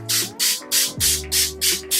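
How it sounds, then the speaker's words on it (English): Urban Decay All Nighter makeup setting spray misted in seven quick, evenly spaced hissing pumps, close and loud, over a faint background hum. "our last step is using the Urban Decay All Nighter Makeup Setting Spray, long lasting makeup setting spray"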